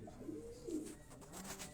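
A racing pigeon, a high-flying breed from Kili Ismail in Quetta, gives a low, soft coo that swells twice within a couple of seconds, close by and alone over faint background noise.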